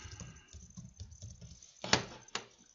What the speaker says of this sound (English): that distinctive typewriter noise. We're not talking about a computer keyboard here. Old style, old school typewriter.